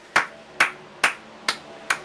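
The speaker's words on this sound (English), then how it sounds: "That is a simulation of a round of applause from the audience above." Simulated audience applause during a stock car racing game broadcast at Atlanta, heard as five separate sharp clap-like bursts spaced about half a second apart, fairly quiet and with no talk over them.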